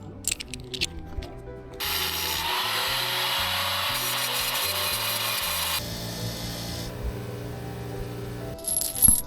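Stainless steel cap screws are cut down for motorcycle fender mounting, a steady loud grinding hiss lasting several seconds, bracketed by softer handling clatter and a shorter second cutting pass.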